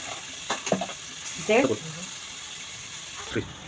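An onion fries in two spoons of oil for a mutton and safflower-greens dish, with a continuous moderate sizzle, a few clanking stirs, and a brief voice-like sound in the middle.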